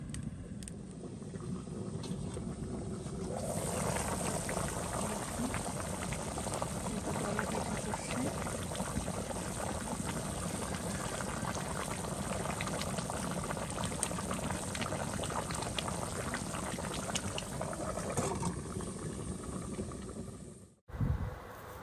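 Water bubbling at a boil in a covered pot while duck meat is being cooked in a home kitchen, a steady close rolling hiss and burble that runs nearly unbroken and cuts off abruptly near the end.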